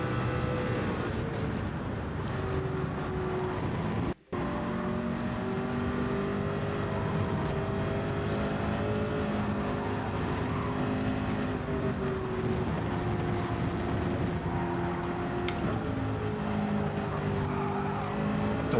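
A race car in Gran Turismo 7 roars as it powers out of a corner with a bit of oversteer. The engine drone is loud and steady, with its pitch rising and shifting throughout, and no one talks.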